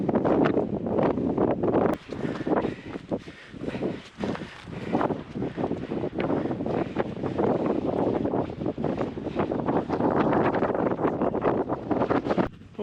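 Strong gusting wind buffets the microphone on an exposed Scottish hill near Craigmore in the Cairngorms, a loud, continuous rushing roar with irregular surges and brief dips across the whole stretch.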